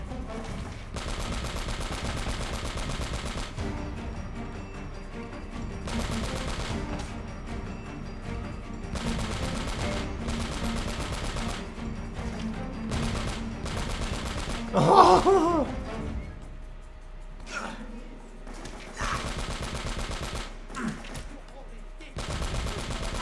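Gunfire from a big gun in the Uncharted: Drake's Fortune video game, bursts of rapid shots in repeated blocks with a heavier blast midway and brief gaps, over game sound effects.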